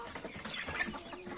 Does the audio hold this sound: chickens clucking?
yes